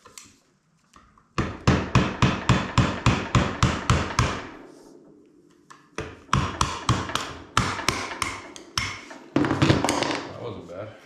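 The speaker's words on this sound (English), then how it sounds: "we're going to loosen it up by using a screwdriver and a hammer" Rapid metallic hammer taps on a screwdriver in quick bursts, close by, loosening a part on a Can-Am, with short pauses between runs of strikes.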